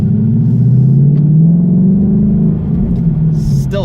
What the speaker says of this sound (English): Still love the way this car sounds